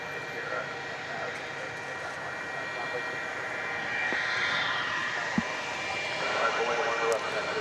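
A Martinair cargo aircraft, a Cessna 208B Super Cargo Master turboprop, arriving at DFW Airport at night, heard as a steady distant engine drone with broadband rumble that swells slightly toward the end, amid airfield ambience.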